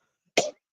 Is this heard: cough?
yes